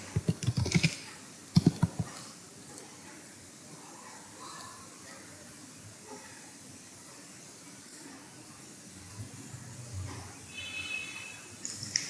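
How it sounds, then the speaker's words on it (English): Close clicks from a computer keyboard come in two quick clusters near the start, then give way to a quiet, hissy room with faint low rumbles. "I just type it again."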